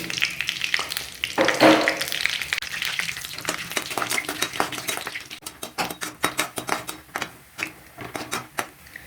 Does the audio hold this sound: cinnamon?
yes